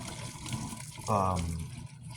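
Hot pasta water poured from a pot into a colander in a home kitchen while shrimp scampi is made, a brief rushing splash of about a second standing out over background talk.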